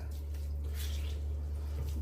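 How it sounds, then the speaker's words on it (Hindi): Warm boiled mustard greens squeezed by hand, with the water running out of them into a container below. A soft, steady trickle sits over a constant low hum, close and fairly quiet. "इसका जितना पानी है वो आपको निचोड़ना है।"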